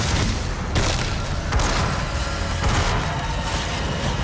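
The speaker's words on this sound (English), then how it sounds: "I'm gonna kill you with a shotgun!" A shotgun fires in the video game Doom amid dense, loud booming blasts and explosions that run almost continuously, with several sharper punches standing out from the roar.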